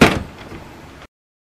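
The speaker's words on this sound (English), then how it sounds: "Open the cartridge access door." The plastic cartridge access door of an HP Smart Tank all-in-one printer swings open with a quick clack followed by a short sliding rumble, close and brief, then silence.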